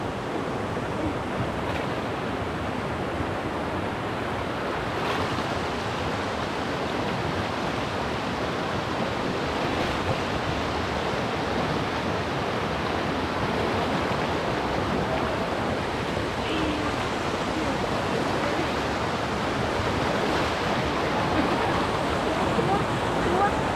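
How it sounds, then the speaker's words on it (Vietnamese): A mountain stream in the Central Highlands rushes steadily as a continuous, broad watery roar that stays even and fairly loud throughout, with no clear voices above it. "Thấy suối ở phía sau rồi."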